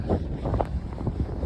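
Strong wind buffets the microphone outdoors at night during a snowstorm near Niagara Falls, Canada, a steady loud rumbling roar with gusty swells and no speech.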